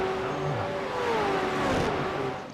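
A V8 race car on Okayama circuit in a racing simulator accelerates hard out of a corner, its steady engine note climbing in pitch and staying loud and close throughout.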